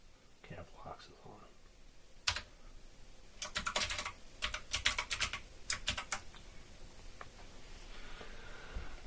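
Someone types a password on a computer keyboard while setting up a Linux install, producing soft, rapid clusters of key clicks close to the microphone, with quiet talk and murmuring around them.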